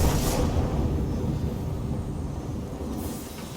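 A deep, steady rolling rumble of thunder after a lightning strike in the video game Immortals Fenyx Rising, loud and broad, filling the moment without any voices.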